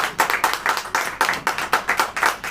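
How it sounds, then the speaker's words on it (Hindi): An audience clapping hands together at a church sermon, a steady rhythmic burst of claps at a brisk, even pace, close and continuous with no talk over it. "ताली बजाइए।"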